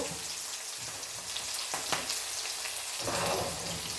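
Chopped ginger and garlic fry in a hot pan while cooking chilli chicken, giving a steady, dense sizzle throughout that swells louder near the end, with no talking.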